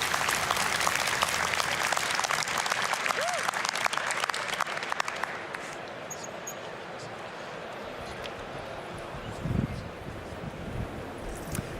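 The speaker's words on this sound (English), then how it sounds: "Big round of applause." Conference audience at a startup founder stage event clapping in sustained, loud applause that fades slightly toward the end, with some voices mixed in.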